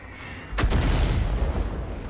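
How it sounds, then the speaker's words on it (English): A heavy artillery gun fires once in a tank video game, a sharp loud boom followed by a rolling rumble that fades out over the next second and a half. "Is this stock gun artillery? That guy's fired like every 6 seconds?"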